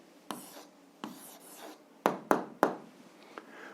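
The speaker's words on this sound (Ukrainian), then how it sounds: "Ну і записуємо відповідь." An answer written by hand on paper comes through as a few close, soft pen scratches and quick taps in short uneven strokes, with a faint room hiss between them.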